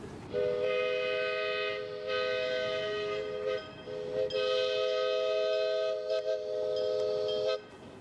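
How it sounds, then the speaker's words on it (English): A long grand scale railroad train runs nearby while its horn sounds in several sustained, tonal blasts separated by short gaps, over a low rumble of rolling cars. "Our last catch is the longest train of the day."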